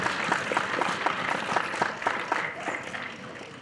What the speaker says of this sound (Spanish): un aplauso para el brother Daniel